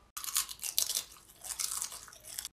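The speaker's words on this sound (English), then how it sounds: "Can you stop chewing so goddamn loud?" Loud crunchy chewing of chips close to the ear, a rapid series of crisp bites and crunches spread over a couple of seconds with no talk.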